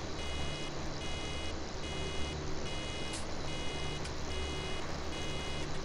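Steady, repeating vehicle reversing beeps from a machine in Farming Simulator 17 ring out loud and continuous in regular pulses over a low engine rumble, with no one talking.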